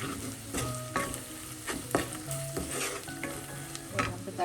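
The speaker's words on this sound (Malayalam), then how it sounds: "പച്ചമണം മാറുന്നവരെ ഒന്ന് ഇളക്കി കൊടുക്കാം." Fish curry masala for black pomfret curry is stirred in a pan, giving a continuous close sizzle broken by repeated scraping strokes of the spoon, with no talking.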